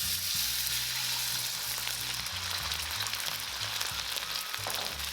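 Beef goes into hot extra light olive oil in a wok over high heat, giving a steady, loud, close sizzle of frying that runs unbroken throughout with a faint crackle.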